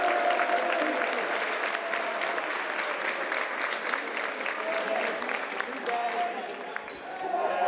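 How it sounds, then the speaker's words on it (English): A student section roars and cheers at a high school varsity basketball district final in a gym, sustained loud crowd noise with clapping throughout, under a commentator's voice. "I think you're going to hear a big cheer out of the student section when that happens."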